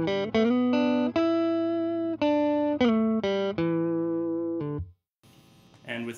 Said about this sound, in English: So here's the dry signal.